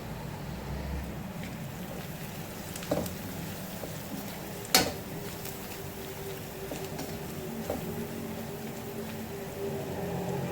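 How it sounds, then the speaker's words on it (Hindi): Bitter gourd (karela) sabji with dal being stirred in a pan, a steady low sizzle with a few soft spoon clinks against the metal scattered through it, fairly quiet and without voices. "अब हम इसको मिक्स करेंगे।"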